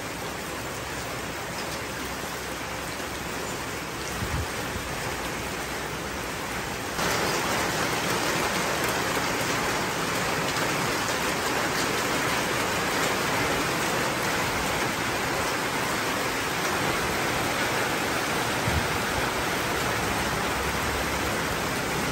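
Heavy rain pours down in Laos during a motorbike trip, a dense continuous hiss of falling water that thickens and grows louder partway through and then holds steady with no voices.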